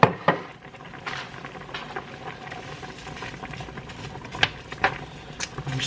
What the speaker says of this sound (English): I'm just going to stir it in there.